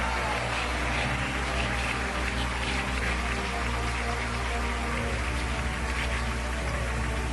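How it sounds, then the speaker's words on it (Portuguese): A church congregation claps hands together in a steady, dense patter of applause, sustained and even with no pauses. "Mas as palmas foi fraquinha"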